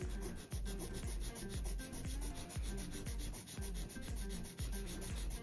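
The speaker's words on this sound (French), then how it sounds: "Je vais retoucher un tout petit peu le bord libre à la lime." Nail file working the free edge of an acrygel nail: steady, close rasping strokes in a regular back-and-forth rhythm, with no voices.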